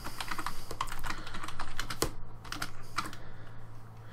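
Rapid typing on a computer keyboard while writing an SQL UPDATE query, a steady run of close, crisp key clicks with a few sharper strokes, no talking.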